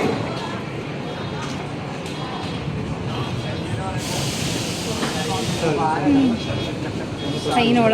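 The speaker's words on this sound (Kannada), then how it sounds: "ಟ್ರೈನ್ ಒಳಗೆ" Inside a moving train in Italy: a steady rumbling hiss of the carriage in motion, with a brief burst of air hiss midway and people talking over the noise.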